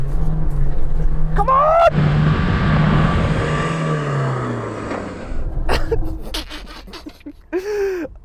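A Land Rover Defender engine works hard off-road in too low a gear, a loud sustained drone that rises and strains before easing off, with a shout and breathy exclamations over it.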